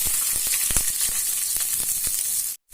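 Sliced onion frying in oil in a pan, a steady close sizzle with occasional small crackles and stirring taps before a brief cutoff.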